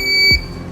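A single short electronic beep from an Arduino parking sensor, a steady high tone lasting about a third of a second, followed by a low thump.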